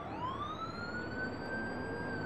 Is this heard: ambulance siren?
yes